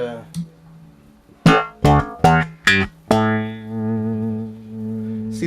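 Electric guitar played through an Earthquaker Night Wire harmonic tremolo pedal at its lowest tremolo setting in LFO mode: a few sharp plucked chords, then a sustained ringing chord with a faint, slight rhythmic bounce.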